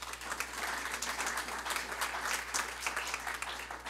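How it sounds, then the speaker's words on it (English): Sustained applause from an audience at an executive institute and strategic plan event, a dense steady wash of many hands clapping that fills the whole stretch at moderate level. "let's give them a round of applause as well."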